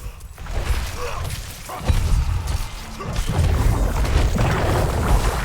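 A Diablo 4 explosion booms and crashes, followed by rumbling debris and scattered impacts, dense and loud throughout.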